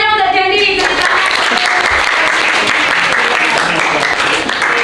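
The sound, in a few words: class applauding for a student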